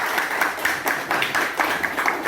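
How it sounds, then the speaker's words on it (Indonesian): An audience at an education program gathering claps together in uneven bursts, moderately loud and roomy, with no talking. "Tepuk tangan untuk kita semua."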